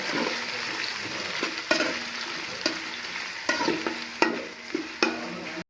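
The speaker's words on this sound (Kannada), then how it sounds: "ಈರುಳ್ಳಿ ಹಾಕಿದ್ದೀರಾ ಇಷ್ಟು ಎಲ್ಲದು ಚೆನ್ನಾಗಿ ರೋಸ್ಟ್ ಆಗಬೇಕು" Onions roasting in a pan for chicken biryani, with a constant crackling sizzle and repeated spatula scrapes and knocks against the pan at an irregular rhythm, close up. No talking.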